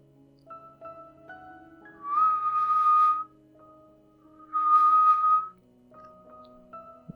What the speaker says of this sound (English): If you need anything, you will whistle.